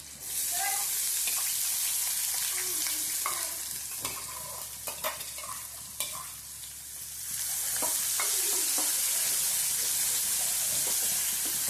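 Garlic and onion sizzle and fry in a pan for a Rajasthani chutney, a steady bright hiss broken by scraping stirs and clinks from a utensil, close and continuous.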